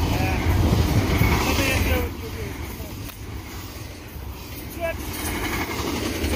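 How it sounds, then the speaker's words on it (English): A Union Pacific intermodal freight train rumbles past at a railroad crossing, close and loud at first and then easing to a steady rolling clatter as the last cars go by, with someone talking over it. "And there goes the train."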